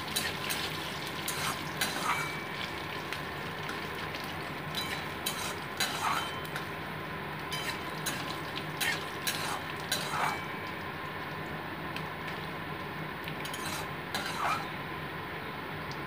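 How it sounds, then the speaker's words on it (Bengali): Dry red chillies and five-spice seeds fry in a pan with a steady, moderate sizzle, broken by occasional sharp crackles and pops as the seeds are stirred. "এবার আমি 5 ফোড়ন কিন্তু দিয়ে দিচ্ছি, দিয়ে 5 ফোড়নটাকেও মোটামুটি একটু ভেজে নিচ্ছি আমি।"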